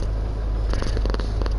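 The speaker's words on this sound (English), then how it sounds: "Can you hear him purr?" A pet cat purrs up close in a steady, low, rumbling drone that holds for under two seconds, with a few faint clicks on top and no talk.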